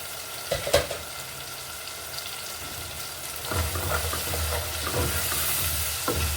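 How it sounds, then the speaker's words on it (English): A steady sizzle of plantain porridge frying in a pan, with occasional soft clinks and stirring scrapes close by. "It's frying right"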